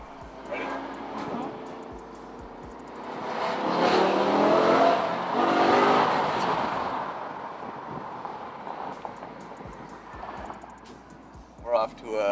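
A BMW M5 E60 revs its engine through the exhaust outdoors, a rising, swelling roar that peaks and fades over several seconds, heard at moderate distance with people talking around it.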